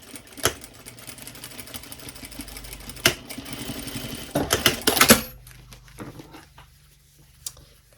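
A sewing machine stitches over a seam to hold elastic in place, giving bursts of fast mechanical whirring and clatter that are loudest in the middle and then trail off into quieter gaps.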